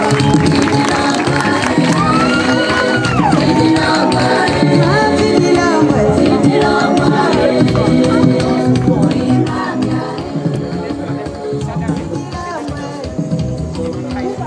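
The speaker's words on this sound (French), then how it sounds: "Applaudissez." An audience at a customary wedding ceremony, where the bride's veil is lifted, claps and cheers in a thick, sustained wash of crowd noise that stays loud and slowly thins toward the end.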